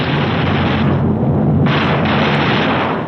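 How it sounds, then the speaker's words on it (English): Gunners on a 1945 B-29 bomber fire short test bursts from the aircraft's guns, loud rapid blasts merging with the heavy drone of the engines, with no talk over it. "Each gunner flexes his sights and tries the coordinated fire controls with a few short bursts to clear the gun."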